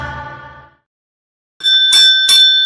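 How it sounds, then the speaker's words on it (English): A bell rings out loud and close after a ringing tone fades into a short silence, two or three bright metallic dings like a bicycle bell. "That's it. That's the bell."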